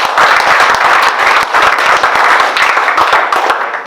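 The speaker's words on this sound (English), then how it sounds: "So a big round of applause for them" A room of guests at a centenary launch evening bursts into applause, loud and sustained dense clapping that holds steady throughout with no voices rising above it.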